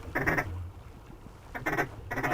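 Ducks quack during a duck hunt in three short, fairly loud bursts of rapid calls separated by brief pauses, with no voices.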